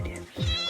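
A single short cat meow with a falling pitch, up close and brief, set against light background noise.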